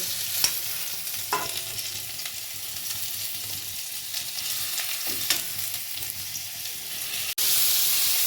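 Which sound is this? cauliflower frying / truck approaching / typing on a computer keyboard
cauliflower frying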